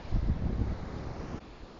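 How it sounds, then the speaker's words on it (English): Waves blast a small outcrop of rocks on a beach at sunset, a low rumbling surge with wind buffeting the microphone, fading to a quieter wash after a second or so. "I've got another little crop of rocks just in front of me that's every now and then being blasted by the waves"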